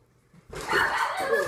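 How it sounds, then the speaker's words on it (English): Pet dog giving a short bark or yelp indoors, a single close burst after a quiet moment, with a brief exclamation from a person. "And that is my dog."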